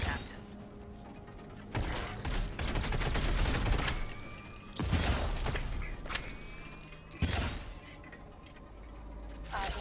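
Shotgun fire in a video game: a few loud, sharp blasts spaced a few seconds apart, each with a shattering tail, against quieter background sound.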